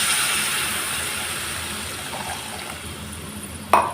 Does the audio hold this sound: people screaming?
no